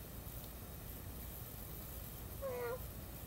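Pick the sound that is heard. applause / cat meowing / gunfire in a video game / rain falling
cat meowing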